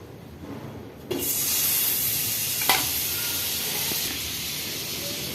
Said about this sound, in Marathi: बटर घालणार आहे आपण कढईमध्ये.